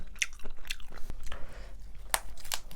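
Crisp bites and crunchy chewing of raw carrot during a vegan mukbang, up close and quiet, in several sharp bursts with softer mouth sounds between.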